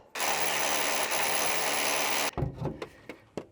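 Power-driven wrench loosening a fitting on hydraulic lines, a loud steady whir running about two seconds then cutting off, followed by a few scattered clanks and knocks of metal parts.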